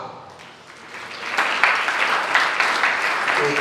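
An audience at a Jain religious discourse breaks into clapping that swells from quiet to a dense, sustained round of applause, close and lively.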